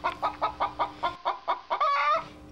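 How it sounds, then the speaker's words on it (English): A hen in a hen house gives a run of quick, evenly paced clucks, eight or so short notes ending in a longer drawn-out squawk, close and clear with nothing else heard. "Sam can hear a clucking noise."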